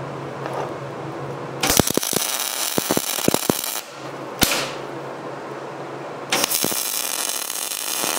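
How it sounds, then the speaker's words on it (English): MIG plug welds being laid into sheet metal: steady broadband frying hiss with sharp crackling pops, in a few separate close bursts with short pauses between them and no talking. "now what I can do is I can finish these welds"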